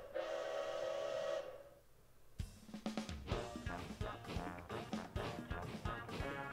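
A steam train whistle in Paper Mario Color Splash sounds as one sustained, fairly loud tone, then the train starts chugging with a quickening rhythmic series of puffs and clanks.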